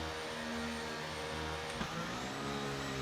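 An F1 23 race car launches off the starting grid on hard tyres, its engine a steady high-pitched whine with a brief click partway through. It sounds moderately loud, with no speech.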